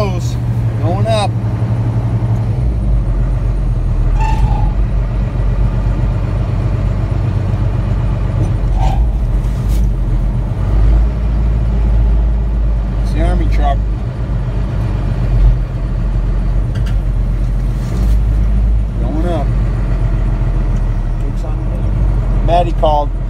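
A roll-off truck's diesel engine rumbles loudly and steadily as it winches a 1953 Dodge M37 up onto its bed, with the vehicle's driver-side front wheel locked; someone talks over the engine throughout.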